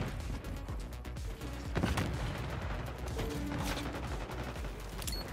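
Enemy gunfire in Black Ops 6 crackles in a busy, moderately quiet stream of rapid shots, with a couple of sharper bursts standing out.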